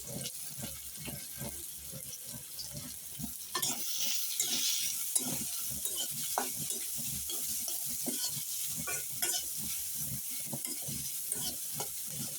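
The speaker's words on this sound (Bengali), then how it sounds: "শুরুতে তেল দিলাম, তারপরে পেঁয়াজটা একটু লাল লাল করে বাদামি কালার করে ভেজে নিব।" Onions frying in oil in a pan until browned, for a Bangladeshi baim fish curry, with steady soft sizzling under repeated close scraping and stirring strokes, and no talking.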